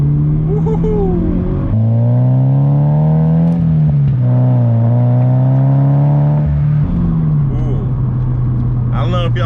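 A Subaru BRZ fitted with an Invidia N1 catback exhaust revs loudly from close by, with a deep, droning exhaust note that rises and falls through several blips.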